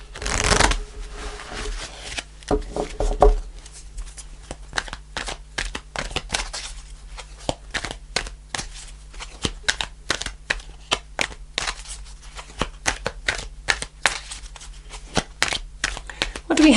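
Tarot cards are shuffled by hand in a long, close sequence of crisp riffles and flicks, with rapid irregular snaps and occasional pauses.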